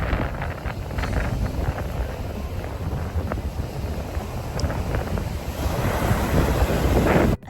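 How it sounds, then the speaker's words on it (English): Powerful ocean surf crashing on a beach on Maui, Hawaii, a steady loud roar of breaking waves with heavy wind buffeting the microphone throughout, no voices. "The ocean there was wild and powerful. The waves crashed hard, making it difficult to swim"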